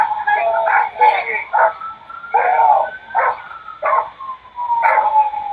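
A dog barks in a string of about six short, loud bursts spaced roughly evenly, close to the listener, with a whining tone running between them.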